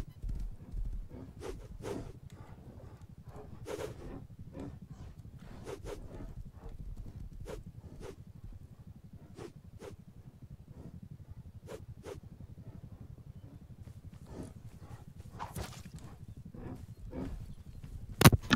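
A horse's hooves clip-clop steadily along in the zombie survival game Rust, a faint, regular beat of soft thuds set against a low rumbling background.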